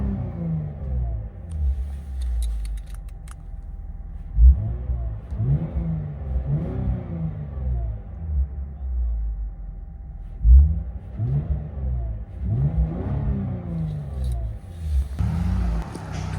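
The 3.5-litre V6 of a 2023 Lexus IS 350 with a custom exhaust, valves closed, revs repeatedly up close. Deep throaty pulls rise and fall in a steady series, with a sharp pop at the peak of two of them.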